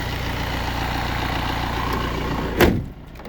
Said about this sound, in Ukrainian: дивіться, чисто робота двигуна